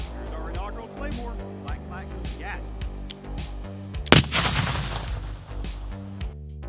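Explosive boom from a 3D printed Claymore mine detonating outdoors, a single sharp loud blast partway through with a rumbling tail, preceded and followed by steady music.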